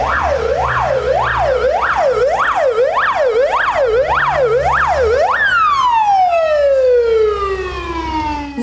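A hospital siren sounding during an emergency drill wails in repeated rising-falling sweeps for about five seconds, then switches to a long descending tone that fades, loud and close, with low traffic rumble beneath.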